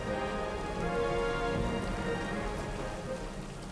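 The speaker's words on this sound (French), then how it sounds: "Dehors, la pluie semble vouloir s'arrêter." Steady rain patters on a surface, a continuous even hiss of drops with no voices.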